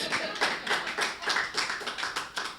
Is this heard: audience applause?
yes